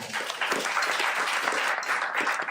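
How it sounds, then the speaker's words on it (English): A meetup audience applauds steadily, dense overlapping claps filling the room at a consistent, fairly loud level throughout. "So thank you again, and a big applause for this one."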